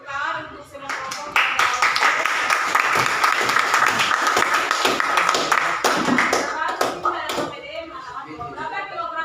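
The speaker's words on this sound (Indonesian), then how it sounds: "Tepuk tangan untuk semua kelompok." Classroom applause for all the student groups during a maths lesson: sustained dense clapping from many hands for most of the stretch, loud and close, with a few voices mixed in.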